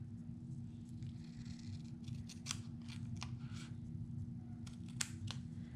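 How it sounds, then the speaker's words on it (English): Scissors cut paper for a scrapbook project, giving a series of quick, crisp snips and rustles, faint and close over a low steady background hum. "We could just cut, I'm gonna cut this"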